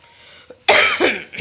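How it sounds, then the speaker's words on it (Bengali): A person with a bad cold coughs hard: a faint catch, then one loud harsh cough and the start of another, all close to the microphone. "প্রচণ্ড কাশি হচ্ছে"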